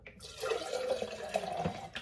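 Filtered water pours into a Starbucks tumbler with a steady liquid stream, rising in pitch a little as it fills, close and fairly quiet with no talking.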